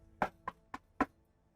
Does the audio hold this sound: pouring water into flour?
no